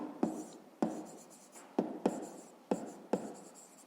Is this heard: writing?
yes